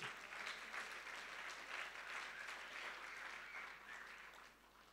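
A church congregation claps in praise as a steady, continuous roll of many hands, fairly quiet and heard alone throughout.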